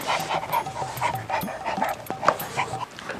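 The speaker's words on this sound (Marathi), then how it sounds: "आता घराबाहेर कुत्रा आहे बघ आपलं." A dog outside a house pants steadily in quick, close breaths, with a few soft whimpers mixed in; no one speaks.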